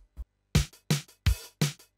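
Short plucked notes from a DX7-style patch on a Modal synthesizer sound in a quick rhythmic phrase of sharp, percussive hits with brief gaps, close and clear with no talking.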